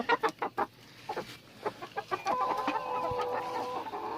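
Farm chickens clucking nearby, a quick series of rhythmic clucks followed by a longer drawn-out call over faint background noise.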